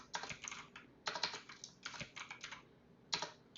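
Close computer keyboard typing while R code is written, in quick bursts of clicky keystrokes separated by short pauses, with no speech.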